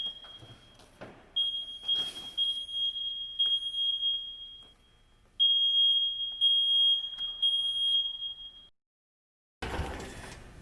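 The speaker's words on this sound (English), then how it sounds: "There may have been some smoke alarms set off in the church." A smoke alarm sounds inside a church, giving off a loud, piercing, sustained electronic tone. It drops out briefly, returns for a second long burst, then cuts off, leaving a short gap before a burst of broadband noise near the end.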